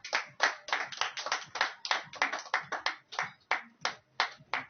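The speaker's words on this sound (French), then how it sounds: "On va l'applaudir s'il vous plaît." A small audience at an official reception for a Katanga delegation of artists and comedians claps in a sparse, uneven rhythm, with individual hand claps distinct and close and no crowd roar.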